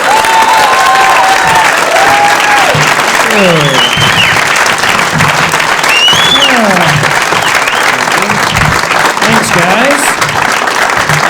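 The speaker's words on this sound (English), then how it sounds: "Please, a nice round of applause for the comedy Mr." A studio audience breaks into loud, sustained applause and some cheering for a comedian, the clapping close and steady throughout while someone briefly speaks over it and whoops rise from the crowd.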